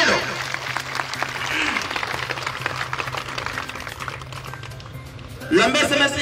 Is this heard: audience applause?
yes